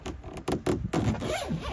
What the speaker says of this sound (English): And this one zips up.